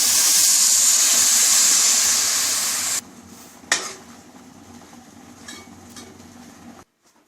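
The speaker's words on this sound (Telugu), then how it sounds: "కొన్ని వాటర్ పోసుకోండి." Water is poured into a pot of flour while making aariselu, a strong hissing splash for about three seconds, followed by a sharp clank and quieter kitchen handling before silence.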